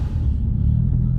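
A Mitsubishi Lancer Evo X engine rumbles steadily on a test drive, a loud, continuous low drone heard from inside the car with no talking.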